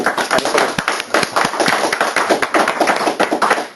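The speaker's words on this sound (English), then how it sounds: "a big round of applause from the 10 of us here in the UK" A small group of about ten people at a building design talk claps, a loose patter of hand claps that fades and swells in bursts, fairly close and without voices.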